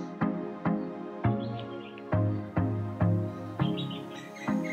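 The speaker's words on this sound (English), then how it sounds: "you can hear the chirping sounds" Birds call loudly and repeatedly in a steady rhythm in the afternoon jungle of Bandipur National Park, India, each note a sharp burst with a buzzing tail, close by and with no one talking.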